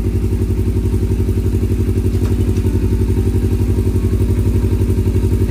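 Kawasaki Ninja 250 Fi engine idling in first gear as the clutch is slowly released, a close, loud, steady rhythmic thrum with a fast even pulse and no voices.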